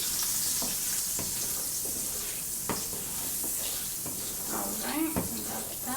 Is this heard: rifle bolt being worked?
no